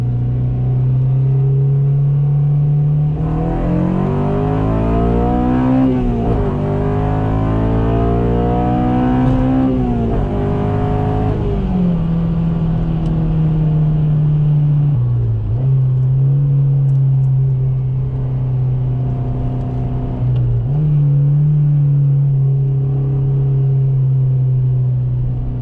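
A 2007 Honda Civic Si with 200k miles accelerating through the gears, heard from inside as a loud, steady engine drone that climbs in pitch, drops at each shift and climbs again, continuous for the whole stretch.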